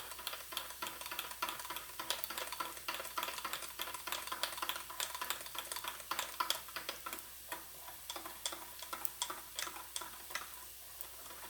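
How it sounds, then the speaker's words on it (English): Powdered cheese stirred into milk for a creamy broccoli sauce: a quick, steady run of light ticking and scraping from a utensil against the pot, close and fairly quiet, over a faint background hiss. "I'm going to take the cheese, the powdered cheese, and I'm going to put it inside the milk. And stir it up."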